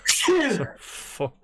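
A single loud, close sneeze bursts out, followed by a brief voice in the background during a casual podcast chat.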